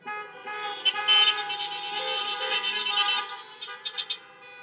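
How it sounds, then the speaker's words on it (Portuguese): Several cars sound their horns together at an outdoor drive-in church service, overlapping steady honks that swell and then break into short separate toots, heard from close to mid distance. "Dá uma buzinada."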